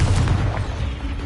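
A Confringo fire-blast spell in Hogwarts Legacy goes off with a loud, booming, explosive thump, dense low rumble filling a short burst.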